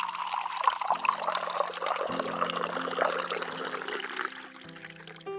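A blended vegan maca coffee smoothie with ice being poured into a glass, a steady close trickling pour with soft gurgles that tapers off near the end, over faint background music.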